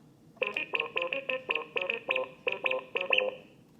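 A remote-controlled Star Wars BB-8 droid toy from Disneyland's Galaxy's Edge chirps out a quick run of about a dozen bright electronic beeps in an uneven rhythm, close and clear, with no talking.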